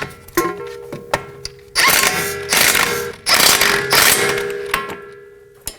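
Ratchet wrench clicking as 22 mm strut bolts are snugged on a 2020 Toyota Corolla front strut, with quick ratcheting strokes and louder bursts, close up.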